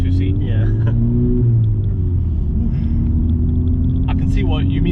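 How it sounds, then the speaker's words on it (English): Honda Civic Type-R FK8 exhaust rumbles at a steady low drone from inside the cabin, running continuously under people talking. "I really love the exhaust, I must admit."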